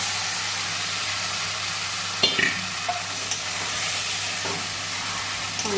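Mutton frying in a hot pan with garlic fills the air with a loud, steady sizzle and hiss, broken by a few soft scrapes and clinks of stirring, close up and without talk.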